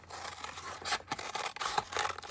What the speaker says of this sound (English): So, right, I'm going to cut this down here,